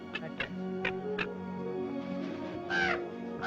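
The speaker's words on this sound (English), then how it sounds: "I can't even scare a crow." Crows caw several times in a field, loud, distinct calls in a spaced, uneven series with a quieter background between them.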